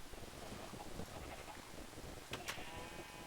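Sheep bleating in a video game, a short faint bleat heard once amid low wind-like background noise.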